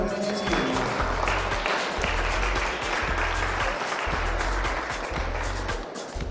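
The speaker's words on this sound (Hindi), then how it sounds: "तालियों की गड़गड़ाहट होनी चाहिए" Sustained applause from an audience at a Prajapati community talent-honouring ceremony in Bidasar, Churu district, a dense steady clapping that stays loud throughout with a low rhythmic beat underneath.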